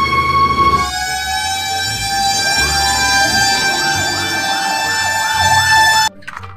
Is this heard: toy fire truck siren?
yes